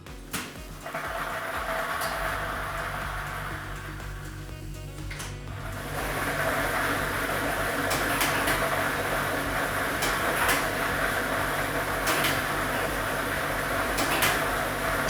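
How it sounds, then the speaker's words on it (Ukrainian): A state lottery ball drawing machine starts up and runs, producing a steady mechanical whirring and rattling that grows louder partway through, with occasional sharp clacks of balls tumbling inside. "І ми вмикаємо лототрон"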